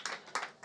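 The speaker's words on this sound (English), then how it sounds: "Let's give her a round of applause." Applause from an audience at a soil health and climate conference hall, heard as three quick bursts of hand clapping, faint and brief.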